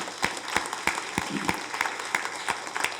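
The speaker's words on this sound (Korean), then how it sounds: "한번 박수하겠습니다." A church congregation claps during a Sunday service, a brisk, fairly close round of applause with regular sharp hand claps over a low murmur.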